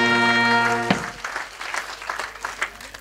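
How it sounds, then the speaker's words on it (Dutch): Audience applause at a Wilbertoord carnival show, rising after a sustained musical chord and continuing as dense, steady clapping with scattered louder claps for the rest of the moment. "En daar wil ik een extra applaus voor."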